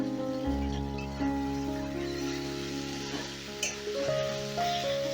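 Green chillies, about five or six, stirred into a tomato spice masala in a pan for lau ghonto with fish head, a soft continuous sizzle with occasional spoon scrapes under a steady background hum.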